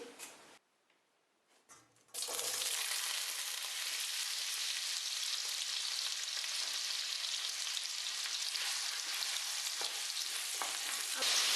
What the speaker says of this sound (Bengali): তেল গরম হয়ে গিয়েছে এখন আমি এর ভিতরে আলু দিয়ে দিচ্ছি